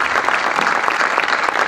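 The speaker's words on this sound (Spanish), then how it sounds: "fuerte aplauso." Concert audience applauding at a band's 15th anniversary show, a steady, loud, dense burst of clapping that holds evenly throughout with no voices on top.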